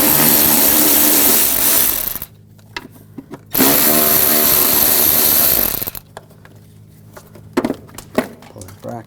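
A 10mm socket on a power driver spins off bracket nuts near the engine mount of a 2014-2018 GMC Sierra 5.3L V8. It makes two loud, close whirring bursts of about two seconds each, with short clicks and handling noises between them.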